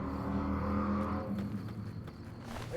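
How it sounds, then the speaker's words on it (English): A loud car or truck passes outside, a broad engine roar that swells and then fades over a few seconds, heard on its own with no talk. "That was a really loud truck out there. Or car, whatever it is."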